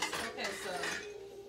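Dishes and cutlery clink and rattle together in a home kitchen, close and busy over a brief moment, with no talking.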